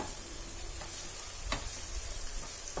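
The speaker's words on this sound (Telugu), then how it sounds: "ఇప్పుడు దీన్ని కొద్దిగా ఫ్రై చేసుకోవాలి." Chopped garlic and a medium onion frying in oil, a steady close sizzle with a couple of faint spoon taps, no talk.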